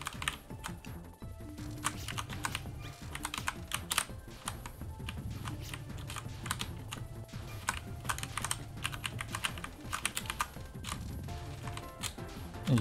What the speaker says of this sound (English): this is just my mechanical keyboard